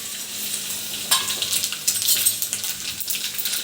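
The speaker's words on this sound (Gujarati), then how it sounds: "તલ આપણા ફૂટી ગયા છે" Sesame seeds crackle and sizzle in hot tempering oil with asafoetida, green chillies and curry leaves, the gas switched off. A steady close hiss turns into busier popping crackles partway through.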